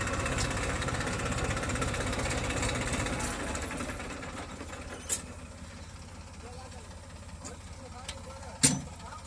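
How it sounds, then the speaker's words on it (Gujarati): A tractor engine runs with a rough, rumbling drone, louder over the first few seconds and then fading to a lower idle-like hum, with a couple of sharp knocks and voices speaking in the background. "એક જ ફેરામ ભાઈ ટ્રેક્ટર નીકળી ગયું."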